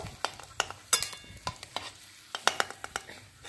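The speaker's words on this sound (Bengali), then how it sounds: "এবার এতেই আমি চিংড়ি মাছগুলো ভেজে নেব।" Prawns frying in a pan with a sizzling hiss broken by sharp, irregular stirring clacks and crackles, close and moderately loud, with no voices.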